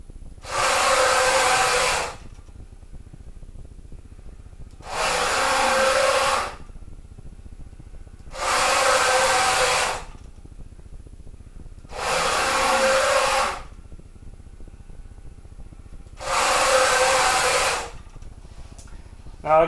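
An AC servo drives a milling machine axis through five repeated 500 millimeter moves, each a smooth, loud whirring burst of about two seconds separated by quiet pauses, steady and close.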